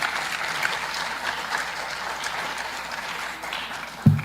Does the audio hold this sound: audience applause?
yes